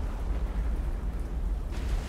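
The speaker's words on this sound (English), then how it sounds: "Hit! Magazine explosion on the Tenryu." A ship's magazine detonates in the naval warfare game War on the Sea, a heavy, sustained low-frequency rumble that continues through the whole clip, with a slight brighter surge near the end and no speech.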